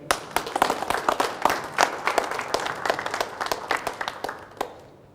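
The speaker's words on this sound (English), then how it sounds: "So a big round of applause and a big thank you to Griffith College." An audience at the Craydel Cup event gives a round of applause for Griffith College: continuous, lively clapping from many hands with distinct sharp claps, steady throughout and tapering slightly at the close.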